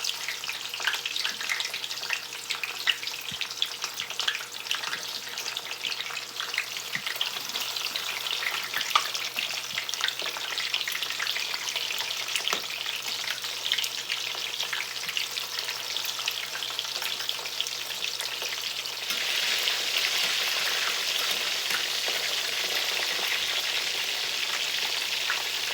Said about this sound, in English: They're going to pop because cabbage is full of water.